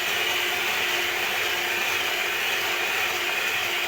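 An electric mixer whisks red velvet sponge cake batter made from a mix with sugar, cocoa and colouring, a steady continuous whir with no pauses, close and fairly loud, no talking.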